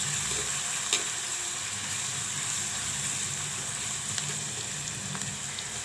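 Ginger garlic paste sautéing in oil for aatu kal paya (goat trotter curry), a constant close sizzle with a couple of faint clicks of utensils and no talk.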